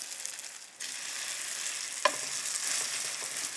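A spoonful of pancake batter hits a hot pan and fries with a steady close sizzle, starting abruptly after a brief lull and holding bright and even, with one sharp clink partway through.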